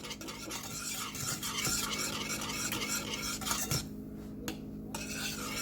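A spoon stirring liquefied strawberry Jello thickened with cornstarch in a pot, producing steady scraping and swishing with faint clinks against the metal, pausing briefly near the end.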